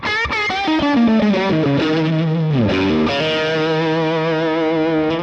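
Electric guitar through a Vox AC30 amp with a Nobels RDR1 drive pedal plays a continuous overdriven melodic line with bends and sliding notes, loud and steady, with no voice.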